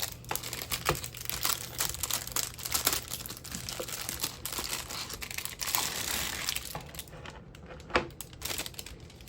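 Plastic packaging of a purple 50-hole thread organizer for embroidery floss being opened up close, a busy run of crinkling, rustling and crackling with small taps, and no one talking.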